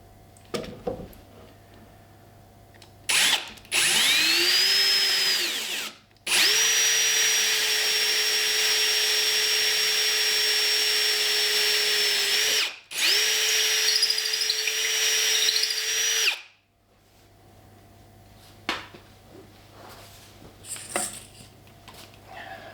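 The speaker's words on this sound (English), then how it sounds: "Drill this hole." A power drill bores a cable hole through a wooden bench in three loud sustained bursts with brief pauses between, quiet handling noises before and after.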